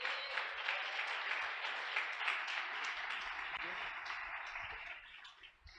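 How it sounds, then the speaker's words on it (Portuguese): A church congregation breaks into sustained applause at a preacher's urging, a dense crowd clapping that stays strong before tapering off near the end. "Você pode aplaudir a Jesus?"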